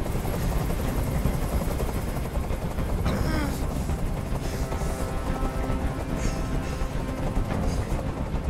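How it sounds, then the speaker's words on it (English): A helicopter's loud, constant rotor thrum fills the scene in the video game Detroit: Become Human, with scattered sharp bursts like gunfire breaking through. "Tell that helicopter to get out of here."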